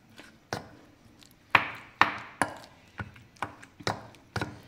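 A knife chops eggplant finely for bharit on a board, about a dozen sharp, close thuds in an uneven rhythm, with no voices.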